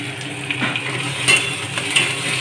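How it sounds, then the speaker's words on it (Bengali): A ground cumin and chilli paste with sugar fries in a pan, producing a continuous soft sizzle with occasional clicks and scrapes of stirring. "এবার ওই জিরে বাটা লঙ্কা বাটা একসাথে বাটা হয়েছিল সেটা দিয়ে দিচ্ছি।"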